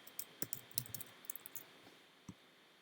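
Keys clacking on a computer keyboard while a help-desk ticket is filled in, a quiet run of irregular taps and clicks that pauses briefly, then a single final keystroke near the end.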